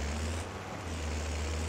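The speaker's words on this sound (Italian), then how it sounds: "Devo tirare qua il trattore." A tractor engine in Farming Simulator 2022 drones at a steady low idle, its deep hum holding evenly throughout with no voices over it.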